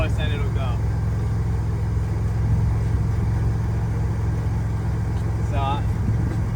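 A Toyota 4Runner creeps along in 4-low with its crawl box in low, making a steady low engine drone at its slowest pace, with a couple of short high squeaks.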